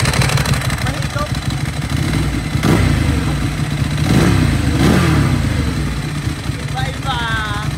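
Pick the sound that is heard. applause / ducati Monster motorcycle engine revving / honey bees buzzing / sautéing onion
ducati Monster motorcycle engine revving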